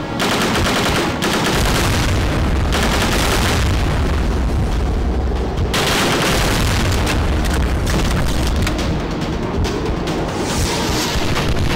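Bombs explode in the zombie sniper shooting game Last Hope 3. The booms are loud and dense, mixed with rapid gunfire, and the barrage continues without a break.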